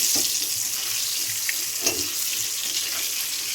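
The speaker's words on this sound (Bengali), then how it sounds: "আলুগুলো ভেজে লাল লাল করে তুলে নিই" Potatoes frying in hot oil until reddish-brown, a steady close sizzling hiss with faint crackles throughout, no talking.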